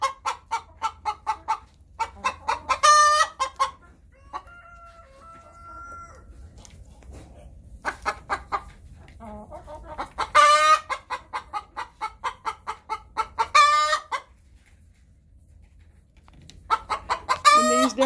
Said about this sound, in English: These down here are the house chickens.